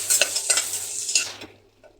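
Onions and cumin sauté in a pan, with a bright sizzle under a few quick scraping stirs over about two seconds, fading toward the end.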